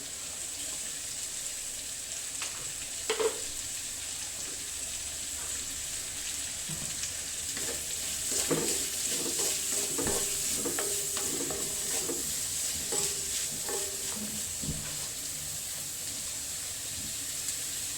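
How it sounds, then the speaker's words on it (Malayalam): Onions frying in a pan with a pinch of salt, a steady low sizzle with intermittent scraping and stirring clatter from a spoon, close and continuous with no talk. "ഉള്ളി നന്നായിട്ട് മുരിഞ്ഞിട്ടുണ്ട്."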